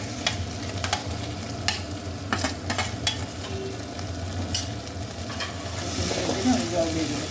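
Ground poppy-seed paste hits spiced oil in a pan for a fish kofta dish and is stirred. It makes a continuous close sizzle with repeated sharp scraping clicks of the spoon, and the sound swells louder toward the end.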